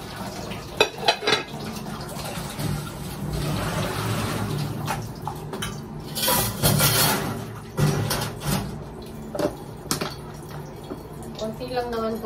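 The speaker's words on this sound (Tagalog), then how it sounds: "Dahil marami akong nakain, ako ang hugas ng plato." Dishes being washed at a sink after a birthday meal, with running tap water, clinking plates and wet scrubbing close by, and people talking throughout.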